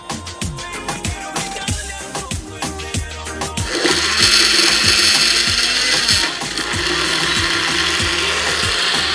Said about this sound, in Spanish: Y ahí sí vamos a licuar